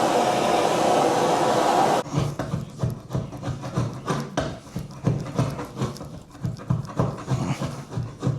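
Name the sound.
heating flooring to remove it with floor scraper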